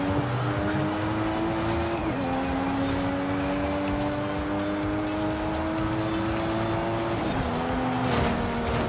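Cars race in Forza Horizon 5, a steady loud engine whine holding close with brief pitch drops at gear shifts, sustained throughout without pause.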